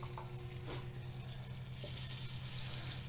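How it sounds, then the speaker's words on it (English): Meat shanks laid into hot oil sizzle steadily and close, a continuous crackling fry with no talking. "So that's a good level of sizzling."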